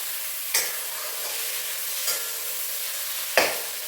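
Onions and tomatoes fry in a pan for a hotel-style chicken curry, with a steady sizzle beneath three sharp scraping stirs spaced a second or so apart.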